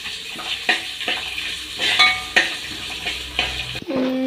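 Cut ginger sautéing in a pan for Kerala mango pickle, a close steady sizzle with repeated spoon scrapes and stirring knocks, ending in a brief metallic clink, no talking.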